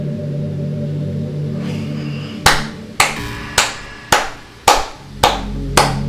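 Seven sharp hand claps ring out at an even pace, loud and close, after a few seconds of low background hum.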